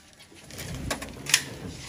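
Pet pigeons coo softly, then several take off with a brief flurry of flapping wings close by, ending in a sharp flutter.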